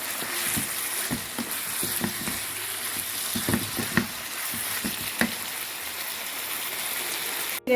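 Pumpkin and dried shrimp frying in a pan on a stove, with coriander leaves just added, giving a steady close sizzle and hiss broken by scattered soft clicks and stirring knocks.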